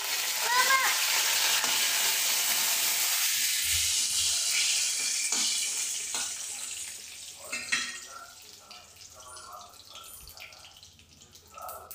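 Curry leaves and cumin seeds hit hot oil in a village kitchen, producing a loud, hissing sizzle and spatter up close that gradually calms, followed by quieter clinks and stirring sounds.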